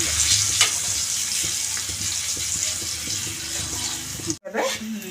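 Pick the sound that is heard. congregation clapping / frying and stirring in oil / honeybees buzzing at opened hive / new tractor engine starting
frying and stirring in oil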